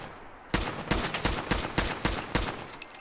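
Gunfire rings out in a modded Fallout-style wasteland game, a series of about eight sharp, evenly spaced shots, each loud, punchy and ending in a short decay, with no talking over it.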